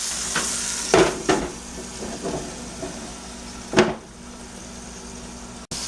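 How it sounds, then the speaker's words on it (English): Ground beef and vegetables cook in a pan with a soft, steady sizzle, broken by a few brief stirring scrapes and clatters, with no voices. "I'm just going to add the vegetables. And we're just going to let those cook right on in with our beef"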